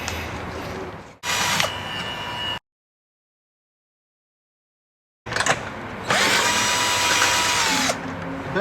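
Power tool with a socket whirring in two bursts on an air box bolt in the engine bay of a VE V6, close and loud, with a long silence between the bursts and a steady high whine in the second.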